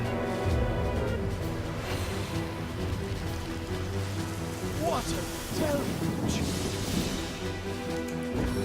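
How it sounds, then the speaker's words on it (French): Rain conjured by a spell in the video game Divinity: Original Sin, a dense continuous patter of falling water that lasts the whole stretch, loud and close, with soft splashes and a voice talking now and then. "Allez, fais la pluie maintenant, allez."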